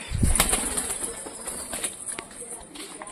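Pigeons flapping their wings in short bursts close by, with scattered rustling and a voice talking faintly in the background.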